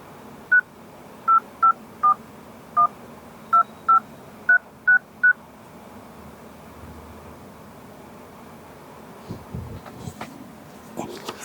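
Telephone keypad dialing tones for a live call, about ten crisp beeps in an irregular rhythm, followed by faint rustling and background noise.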